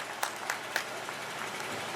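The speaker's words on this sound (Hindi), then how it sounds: "इन दोनों के लिए एक बार फिर से तालियां होनी चाहिए" Guests at a sangeet wedding celebration applaud, a continuous bed of crowd clapping with a few sharp, louder individual claps popping out near the start before it settles into an even patter.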